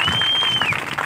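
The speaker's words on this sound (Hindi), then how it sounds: "तालियां बजाओ ना" Clapping from a crowd at a church convention gathering, a brief burst of dense applause with a sharp whistle rising over it at the start.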